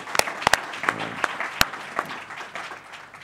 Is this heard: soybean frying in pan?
no